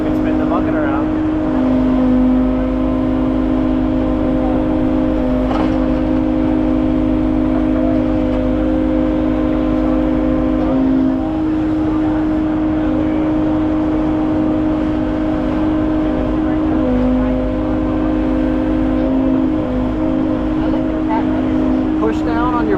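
A compact tractor loader runs steadily at a loud, close idle-to-working pitch while its bucket is operated during an equipment demo day, the engine drone continuous throughout.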